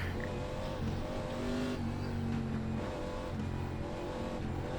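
A Chevy Impala race car engine in an ARCA racing game at Iowa, revving and shifting through gears as it warms its tires, a loud steady drone with rising and falling pitch, no voices.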